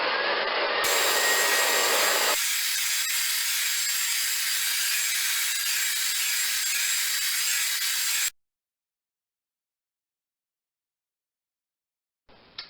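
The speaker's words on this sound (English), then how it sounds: "So I'm going to start by blow drying." A hair dryer blows loudly on natural hair in one steady, close, broadband rush for about eight seconds, then cuts off into silence before a brief blip near the end.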